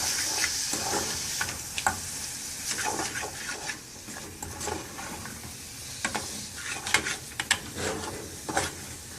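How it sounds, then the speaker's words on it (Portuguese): Carrot sautéing in a pan while being stirred, with a continuous sizzle broken by irregular utensil scrapes and light knocks against the pan, close up and without speech. "Aqui a gente já pode adicionar a cenoura."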